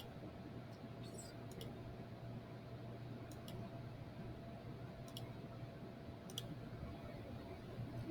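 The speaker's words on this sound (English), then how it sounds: "I'm just going to type over the numbers that are already in here" Numbers are typed on a computer keyboard as sparse, light clicks in small clusters over a steady fan-like hum in a quiet room.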